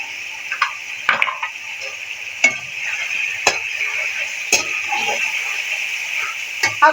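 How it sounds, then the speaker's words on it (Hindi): Boiled chickpeas fry in a pan with a steady sizzle, broken by several sharp clicks and scrapes of stirring against the metal, all close and fairly loud with no talk. "इनको भी हम साथ ही फ्राई करेंगे।"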